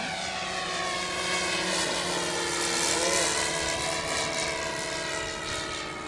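A radio-controlled Cessna 337 model airplane makes a low overhead pass, its steady buzzing propeller engine loud and continuous, swelling slightly as it comes closest, with no talk.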